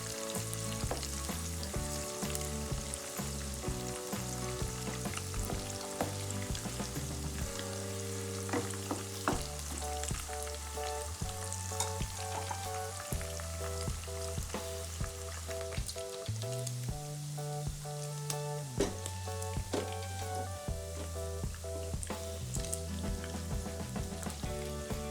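Beef dendeng for dendeng balado, Padang style, frying briefly in hot oil, with a steady sizzle and occasional stirring sounds running continuously for about twenty-five seconds, with a layer of music over it.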